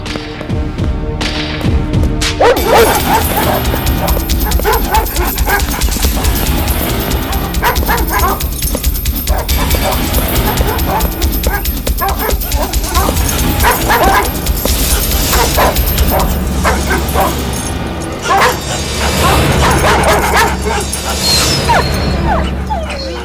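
Dogs bark and yip in a Telugu film comedy scene, a run of barks and whimpers mixed into a dense, loud soundtrack with thuds and background noise throughout.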